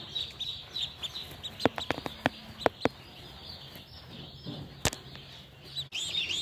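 Poultry chicks peck at a camera inside a poultry barn, giving a run of sharp close taps in a quick irregular cluster, then one louder knock, over a steady background of faint cheeping and barn noise.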